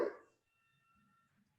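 A dog gives a single short bark at the very start, fairly faint, followed by near silence with a low, quiet hum.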